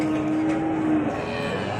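A cow at a busy cattle market moos in one steady, sustained low call over a dense background of crowd noise.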